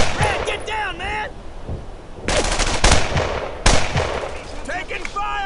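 Machine gun fire in the war shooter Brothers in Arms: Earned in Blood, loud close bursts of rapid shots crashing in repeatedly, with shouting soldiers' voices and whistling noises between the volleys.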